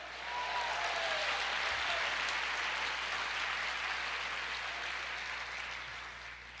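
A church congregation claps loudly and steadily for the whole stretch, a dense wash of many hands that tapers slightly toward the end, with no talking over it.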